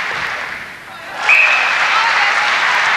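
A small but enthusiastic crowd at a 1995 netball SuperLeague match in Canberra breaks into applause about a second in. The clapping holds steady and bright, with a commentator's voice running alongside.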